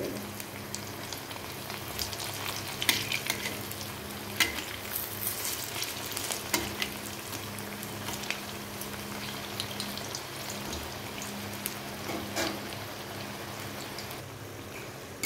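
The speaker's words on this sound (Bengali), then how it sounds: "দেখো, ভাজা ভাজা হয়ে এসেছে।" Watermelon rind fritters fry in hot oil with a constant gentle sizzle and crackle, faint and close, punctuated by occasional small pops and utensil taps.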